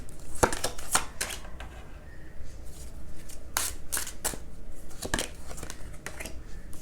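Tarot cards being shuffled by hand in a quiet room, a run of crisp riffling and slapping bursts with short pauses between them, close and fairly soft.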